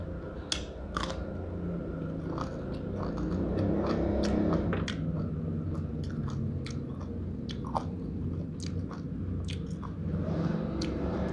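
Someone chews a mouthful of sticky rice and spicy pork salad (nam tok moo), with close, wet, steady chewing and occasional sharp crunchy bites and clicks, and no talking.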